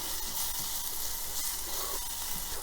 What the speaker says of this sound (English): I need it to sizzle like that.